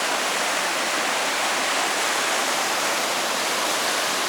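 The Assa river rushing below a slope of dead trees, a loud, constant broadband roar of fast-flowing water with no pauses and no voices.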